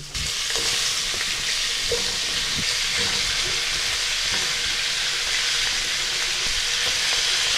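Cauliflower florets sizzle steadily in hot oil with dried red chillies, a dense continuous frying hiss with scattered crackles and a few soft stirring knocks, close and even throughout.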